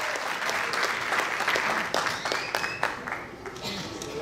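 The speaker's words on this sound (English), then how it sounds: "Give him another big round of applause." Audience applause at a Carnatic violin arangetram, a sustained round of clapping with distinct individual claps standing out, gradually thinning toward the end with a faint voice or two underneath.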